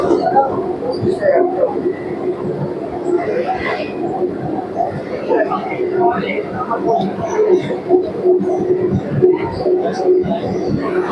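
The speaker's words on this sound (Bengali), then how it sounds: "আমরা এখন ব্রিজের উপর থেকে ট্রেন যাচ্ছে আমাদের।" A local train between Naihati and Barddhaman rolls over a bridge, its steady rumble and rhythmic clatter continuing throughout beneath loud nearby chatter and voices in the carriage.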